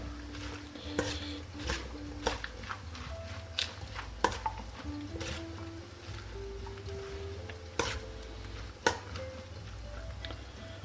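Salted salmon-and-potato dish being stirred in a pot, scraping and clinking of a utensil against the vessel with occasional sharper knocks, over a steady low hum, close by and with no talking.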